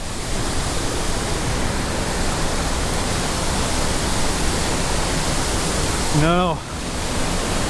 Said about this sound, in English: This is another waterfall.